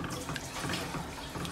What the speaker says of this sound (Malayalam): കുക്കിംഗ് ക്രീം ഒഴിക്കണം.